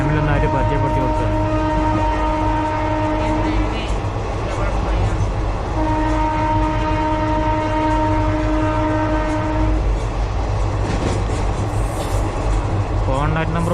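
Inside a moving passenger train in Himachal, a continuous loud rumble and rattle of the carriage runs throughout, with long sustained horn blasts sounding twice.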